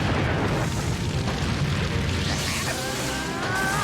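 Great Fire Annihilation fire attack from Naruto Shippuden: Ultimate Ninja Storm 3 Full Burst, a sustained loud roaring blast of flame that rumbles steadily throughout with crackling bursts layered on top.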